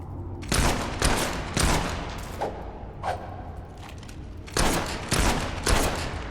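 Gunshots from a firearm in the video game Fable 3, several loud, close blasts spaced about half a second apart, grouped in short runs with a pause in between.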